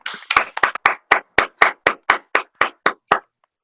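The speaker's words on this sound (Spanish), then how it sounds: "Un aplauso" A class claps in sharp unison, a dozen crisp separate claps in a quick then steadying rhythm, close and loud, ending in silence.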